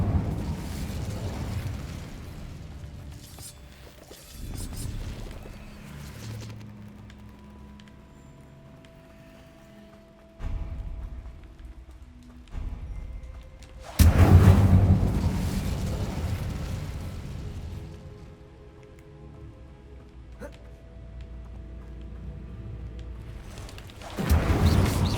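Explosive spells cast in the video game Hogwarts Legacy burst in several heavy booming blasts with rumbling decay, a big one near the middle and others spread across the fight, amid quieter combat effects.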